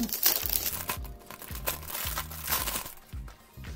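Crinkling, rustling packaging as a second leather phone case for a Huawei P30 is unwrapped, with repeated close crackles and crumples in a steady stream.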